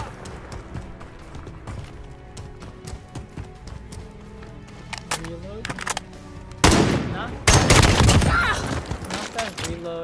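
Rapid hipfired SKS rifle shots in Call of Duty Modern Warfare, scattered cracks early then louder bursts near the end, set against busy in-game footsteps and ambient game sounds.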